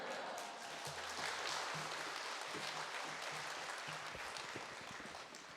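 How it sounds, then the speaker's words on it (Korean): A church congregation claps steadily throughout to welcome a pastor during a Sunday worship service, a dense, continuous wash of applause filling the room, with faint low tones from the sanctuary underneath. "환영의 박수로 목사님을 맞이하겠습니다"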